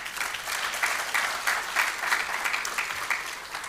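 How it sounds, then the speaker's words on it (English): Steady applause from a sizeable conference audience at Danube Ports Days 2025, a continuous wash of clapping that swells slightly and never pauses. "So a big applause to everybody here."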